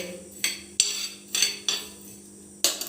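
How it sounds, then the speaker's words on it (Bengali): Black cumin seeds are stirred in a pan over low heat. A utensil strikes and scrapes the pan in five or six sharp, separate clinks at an uneven pace, close up and with no speech. "খানিকটা কালো জিরে দিয়ে আবার একটু নেড়ে নেব আর গ্যাসটা কিন্তু আস্তে রেখেই এটাকে ভাজতে হবে ভালো করে"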